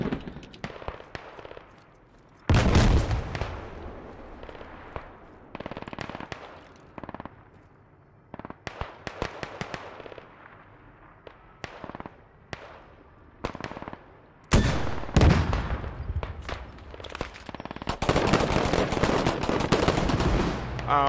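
Rapid bursts of blaster fire crackle through a Star Wars video game battle against Tusken Raiders on Tatooine, loud volleys erupting in dense clusters with short gaps between them.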